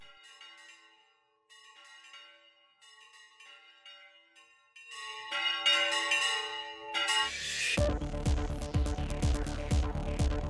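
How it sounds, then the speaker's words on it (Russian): Historic church bells in Rome with a Spanish-style mechanism ring out alone, with sparse peals at first that build into a loud, dense clangour of many overlapping strikes. "Эти колокола имеют уникальный механизм в полностью испанском стиле."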